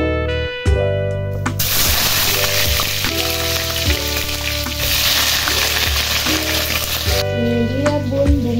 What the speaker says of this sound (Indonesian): kita goreng terongnya ya